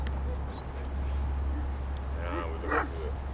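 A dog whimpers and gives a few short yips during an obedience training session with a handler, the high whines rising over steady low background hum with no talk heard.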